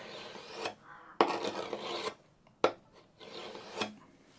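A steel burnisher drawn across the edge of a card scraper at a slightly lowered angle to raise a burr, heard as several short metallic rasping strokes with brief pauses between them, close and fairly quiet.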